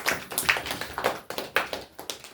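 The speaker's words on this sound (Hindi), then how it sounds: "ये ताली मारेंगे" Sharp, uneven hand claps from a small group at a night prayer meeting, a dozen or so distinct slaps in a loose rhythm, fairly close and moderately loud.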